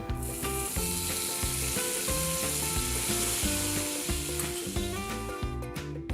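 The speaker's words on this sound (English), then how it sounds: "The first step is to melt some butter." Butter melting and sizzling in a pan for butter garlic prawns, a constant bright hiss running the whole time beneath rhythmic background music.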